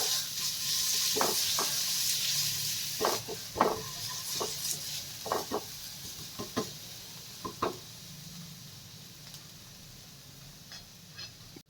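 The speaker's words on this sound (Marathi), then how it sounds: "त्यानंतर त्याच्यामध्ये आलं, लसूण आणि हिरवी मिरची टाकून व्यवस्थित परतून घेऊया।" Ginger, garlic and green chilli sauté in half a spoon of oil in a pan, with a soft continuous sizzle broken by scattered clicks and scrapes of stirring, fading slightly over time.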